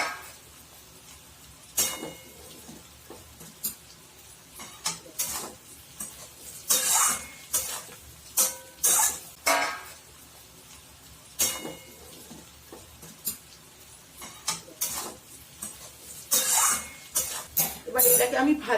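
Chopped leftover chapati tipped into a pan and stirred, with scattered clinks and scrapes of a utensil against the pan, irregular and moderately close, while someone talks intermittently.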